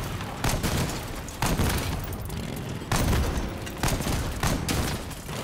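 Weapons tap firing in the vehicle combat game Crossout: short, evenly spaced bursts of heavy gunfire roughly every second, loud and punchy with booming low end, no voices present.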